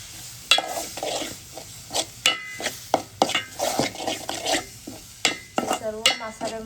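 Ground coconut masala paste is stirred into a sizzling tempering for a spicy crab curry. Repeated scraping strokes sound close up over a steady frying hiss, with occasional clinks of metal against the pan and no talking.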